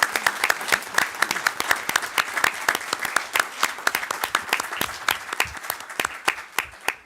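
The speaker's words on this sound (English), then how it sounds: "please join me one more time, give them a round of applause" Applause at a school board meeting: a room full of people clapping steadily and fairly close, dense overlapping claps sustained for the whole stretch without letting up.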